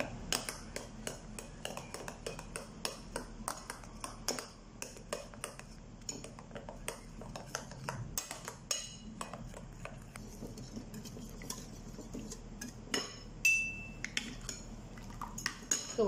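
Utensil clinking and scraping against a pot or bowl while sauce with grated garlic and mineral water is stirred, a steady run of close, sharp taps and scrapes over about sixteen seconds.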